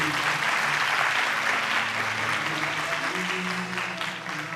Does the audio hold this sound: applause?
yes